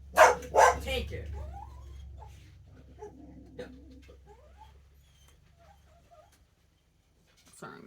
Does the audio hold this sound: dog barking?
yes